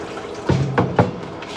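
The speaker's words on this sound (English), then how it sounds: "Defrosting trick, you put your meat in some water" Tap water pours into a container of meat being thawed in a kitchen, three short splashing gushes in quick succession, close and moderately loud.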